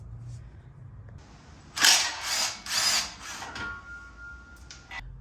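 A power drill works on a bolt on the rear frame bracket of a 6th-generation Ford Bronco, whirring close and loud in a few short consecutive bursts amid quiet garage background.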